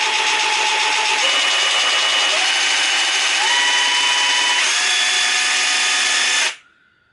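An Excel 18V cordless jigsaw, model 11752, runs free with a high whining motor buzz that steps up in speed a few times before cutting off abruptly near the end.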